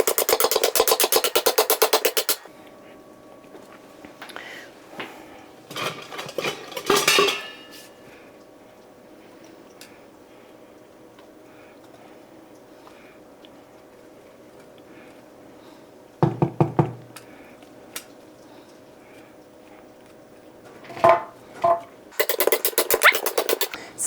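A baked loaf is knocked out of a metal pan in several separate bursts of hollow knocking and rattling, with quiet stretches and a faint steady hum in between.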